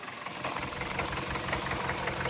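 A Kia car engine idles steadily during a health check after a fuel system cleaning, a continuous close, even rumble with a faint mechanical ticking and no talk.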